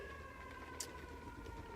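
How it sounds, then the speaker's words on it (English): A faint siren wails steadily in the distance, a thin sustained tone over low rumbling background noise, with no one talking. "excuse the sirens"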